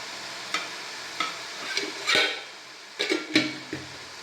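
Banana flower is stirred with spice powder in a pan, producing a handful of scattered scraping strokes and soft clinks over a faint sizzle, close and quiet.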